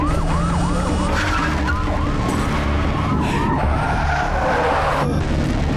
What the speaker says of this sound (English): Nice car chase scene so far.